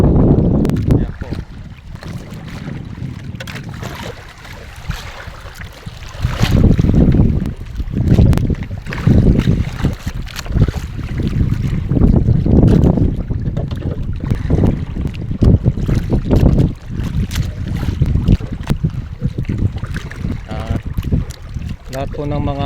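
Boat out at sea pitching through strong waves, with heavy rushing water and buffeting wind surging in repeated loud swells, and someone speaking faintly at times.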